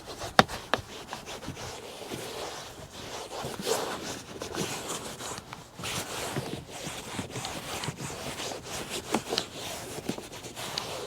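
A stiff nylon brush scrubs the interior of a Chevy Colorado pickup truck with continuous close, raspy back-and-forth bristle scratching at an uneven rhythm and no talking.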